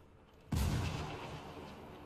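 A grenade goes off in Ghost Recon Wildlands after a short quiet lead-in: one loud, sudden blast with a deep boom that rolls off into a long fading rumble, no voices.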